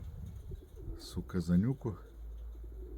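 Pigeons coo softly nearby in a short burst of low, throaty calls, with a voice speaking around them.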